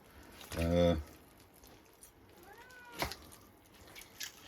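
A cat gives one clear, close meow in a kitchen where pork is being cooked and shredded, followed by softer, rising mews and small clicks against a quiet background.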